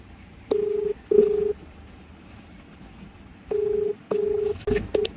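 A phone being dialed for a call gives five short, clear DTMF keypad tones in two bursts, with a faint background hum between them.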